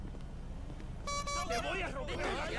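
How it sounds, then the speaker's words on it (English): A car horn gives one short, bright honk. Excited shouting voices and noisy babble follow right after it. "I was only honking the horn"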